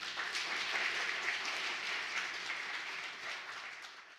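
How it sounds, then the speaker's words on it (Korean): Audience applause greeting a speaker at a Korean science forum, a soft, steady wash of clapping heard from some distance that holds evenly before tapering off toward the end. "큰 박수 부탁드리겠습니다."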